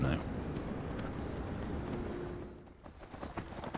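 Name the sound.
horse hooves in Skyrim Special Edition video game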